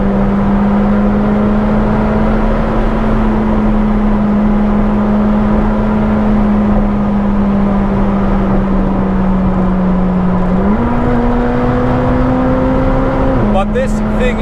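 McLaren 765LT sports car on the Autobahn, its engine droning steadily at high load, then rising in pitch as it accelerates harder, with a shift near the end; heard from inside the cabin.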